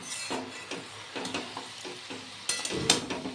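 Ivy gourd curry in a pan is stirred over medium-low gas, with a soft sizzle and rhythmic scraping strokes of a spatula about every half second, close up and without talk.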